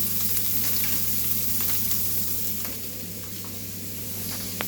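Onion and butter frying in a pan for pea and bacon risotto, a steady close sizzle with broadband crackle and a low hum underneath, occasional soft stirring clicks, no talking.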